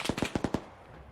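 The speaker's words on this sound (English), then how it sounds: "they're just suppressing us with the M2 machine gun while we move up" Five rapid gunshot-like bursts from an M2 heavy machine gun in the Arma 3 combat game, sharp and loud in quick succession over about half a second, then a fading tail with no talk.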